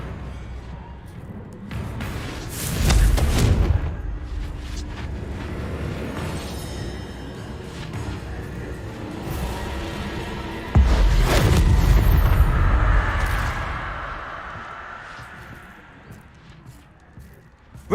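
Two Confringo blasting spells in Hogwarts Legacy, each a loud, booming explosion with a heavy low rumble, the first about three seconds in and the second near eleven seconds, each trailing into a decaying roar amid ongoing game noise.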